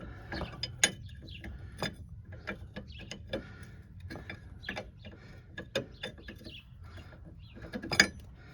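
A wrench ratcheting on a 1999 Suburban ball joint, with quick metallic clicks and clanks in uneven bursts, close and fairly quiet, no talking.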